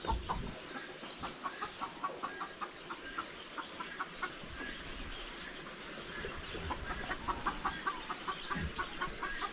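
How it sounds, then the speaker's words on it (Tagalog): A hen clucks after laying an egg, giving a steady series of short, evenly spaced clucks that repeat for several seconds. The clucking is moderately faint against a constant background hiss. "Nag-itlog pa lang yung manok natin."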